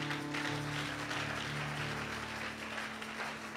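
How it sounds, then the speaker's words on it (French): Church congregation applauding loudly and steadily, a dense wash of clapping that holds at an even level throughout with a low hum beneath. "Acclame très fortement."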